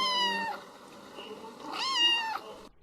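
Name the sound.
cat approaching, meowing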